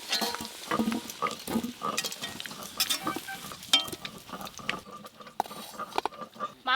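Fried potatoes being stirred and lifted from hot oil in a home kitchen, with a soft sizzle under repeated clinks and scrapes of a spoon or slotted ladle against the pan, close and busy throughout.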